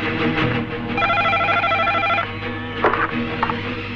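A telephone rings in a comedy film scene, its bright repeating electronic trill sounding steadily for about a second and a half over a busy backdrop of music and room noise.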